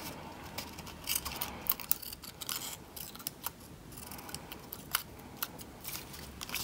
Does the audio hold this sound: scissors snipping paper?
yes